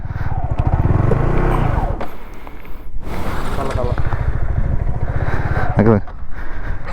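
A Royal Enfield Himalayan 411 motorcycle revs loudly and close on a sand trail at Dhanushkodi, its engine note climbing and falling while people shout and talk over it.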